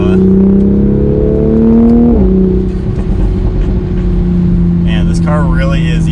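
A stock Toyota Supra drives under load with a strong engine and exhaust drone that drops in pitch as the car shifts, followed by faint crackling pops; someone talks over it.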